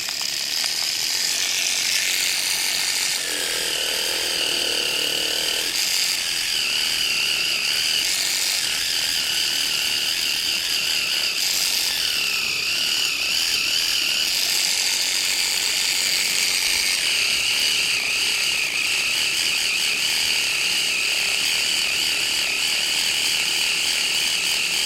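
A Dspiae portable electric sander runs on its highest setting against resin, giving a steady, loud, buzzing mechanical whir that holds continuously throughout with slight shifts in pitch.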